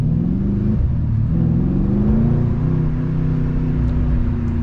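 A 2020 Mercedes-AMG C63 S sedan's 4.0L V8 pulls away under acceleration, a steady close-up engine drone holding loud and even throughout with a slight rising tone and no talking.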